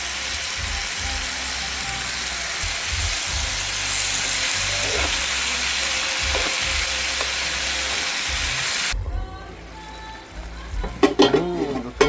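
Chayote with sardines fries in a pan with a loud, steady sizzle filling most of the stretch, then the sizzle drops away near the end into a few clinks and stirring sounds.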